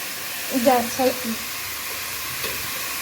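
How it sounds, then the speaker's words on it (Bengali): Prawns fry with ginger, garlic and tomato for a Bengali banana-flower curry, giving a soft continuous sizzle; a voice speaks briefly near the start. "যাতে আদা রসুন টমেটোর সাথে একটু এটা ভাজা ভাজা হয়ে যায়।"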